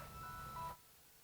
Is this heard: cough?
no